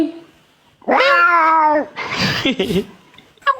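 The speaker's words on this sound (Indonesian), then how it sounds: "Kucing." A cat lets out one loud, close, drawn-out meow, followed by rougher shorter cries and a brief final yowl, with faint voices nearby.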